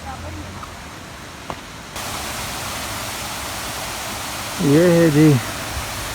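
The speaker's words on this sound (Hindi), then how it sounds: "धनी वाटरफॉल। काफ़ी खूबसूरत आबशार है।" The Dhani waterfall in Neelum Valley gives a steady, rushing roar of falling water that fills the scene, with someone speaking briefly over it near the end.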